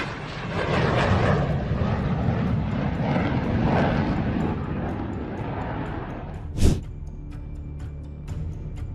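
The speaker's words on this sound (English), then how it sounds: "Watch this Turkish Air Force F-4 Phantom saves itself from hitting the ground." A Turkish Air Force F-4 Phantom jet flies low with a loud, broad engine roar that slowly fades, broken near the end by one short sharp crack.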